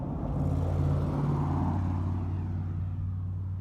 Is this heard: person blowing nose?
no